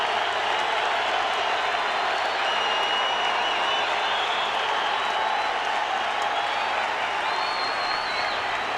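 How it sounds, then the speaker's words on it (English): A big stadium crowd at Angel Stadium applauds as pitcher Roger Clemens leaves the mound during a World Baseball Classic game, a broad, steady wash of clapping and crowd roar that holds loud throughout. "the big crowd here at Angel Stadium salutes the Rocket"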